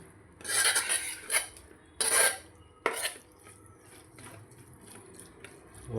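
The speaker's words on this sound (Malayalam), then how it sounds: "ചെറുതായിട്ട് ഇങ്ങനെ നമുക്ക് ഇളക്കി കൊടുക്കാം" Beef fry stirred in a pan, a few loud scraping strokes of a spatula against metal in quick bursts, then quieter occasional scrapes over a faint low background.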